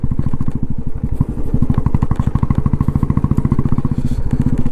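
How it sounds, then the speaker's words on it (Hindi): Royal Enfield Bullet motorcycle fitted with a VW Indore aftermarket silencer, revving under load with a loud, close, rapid thumping exhaust beat that stays steady throughout. "लोड पे बुलेट का साउंड अलग ही आता है यार"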